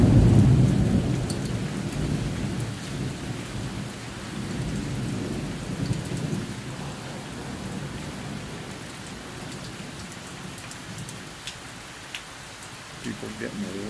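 A late summer thunderstorm in Kenmore, Washington: steady, loud rain pours onto surfaces while low thunder rumbles through it.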